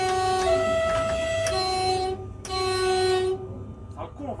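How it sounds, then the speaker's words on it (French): Two blasts from the horn of an RER D Z 20666 commuter train, heard from inside the driver's cab: a long, loud, steady multi-tone blast, a brief pause, then a shorter one over running-train noise. "t'as eu ton klaxon"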